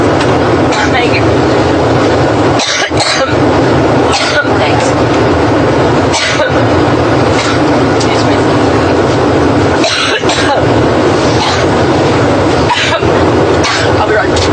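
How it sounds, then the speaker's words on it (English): A politician breaks into a coughing fit at a press conference aboard her campaign plane. Repeated harsh coughs burst over a constant loud cabin hum, and a few brief spoken words come between them. "her press conference there aboard her new campaign plane, interrupted by a coughing fit"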